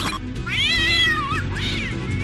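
A cat lets out two long, rising and falling yowls, close and loud, the second one shorter, over a steady low background hum with no talking.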